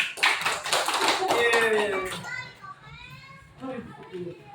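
Elementary school pupils in a classroom clap together in a quick, bright burst for about two seconds, mixed with children's chatter, after which the clapping fades and young voices carry on more softly.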